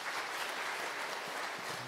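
Applause rings out in a church during a Sunday worship service to welcome newly registered members, a steady dense patter of many hands filling a short stretch with no voice over it.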